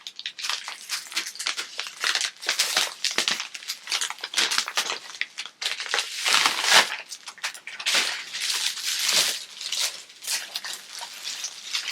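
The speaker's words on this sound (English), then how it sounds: "It's really risky running the scissors down here." Scissors slice through the plastic wrap of a vacuum-sealed pillow in a steady run of sharp crinkling, crunching snips and rustles that fill the whole stretch up close, with no one talking.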